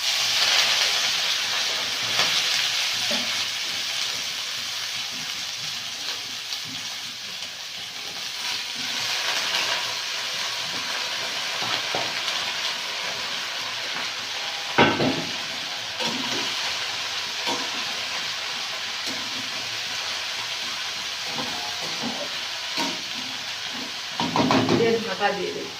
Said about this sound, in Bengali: বাঁধাকপিগুলো ভেজে নেব